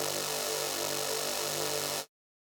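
A bright, buzzing synth tone from a 2D high-throat wavetable with five-voice unison spread wide holds steady and dense, then cuts off abruptly, leaving silence.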